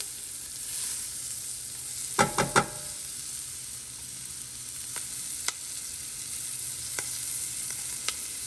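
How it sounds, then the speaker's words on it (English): Tomatoes sear in a hot pan for an Indian coconut curry, a steady close sizzle with a few sharp crackles and pops around the middle, then fainter isolated spits. "I want the tomatoes in a little early just because that enables me to really get a nice little sear on them"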